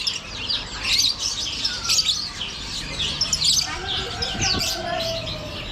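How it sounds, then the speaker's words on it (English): Pet cockatiels chirping and tweeting in repeated bright bursts, fairly close and lively, with a steady murmur of people talking underneath. "cockatiels we call them."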